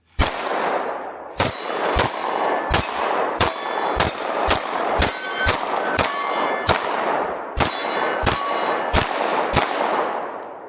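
Repeated Glock 19 pistol shots fired in sequence, about fifteen sharp cracks at uneven intervals, each with a ringing metallic tail, loud and close with no talking.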